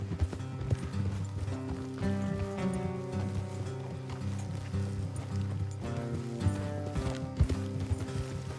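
Horses ridden along a trail in Red Dead Redemption 2 clip-clop in a steady walking rhythm, several hooves overlapping, with tack jingling and a low musical score humming underneath; no one speaks.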